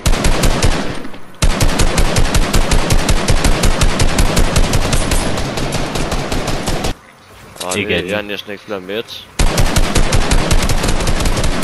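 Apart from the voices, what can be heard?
gunfire in the video game Fortnite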